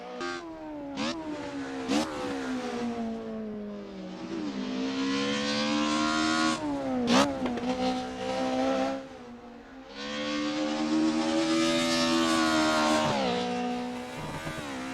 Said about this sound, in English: let's enjoy the sights and sounds of Mercedes Evo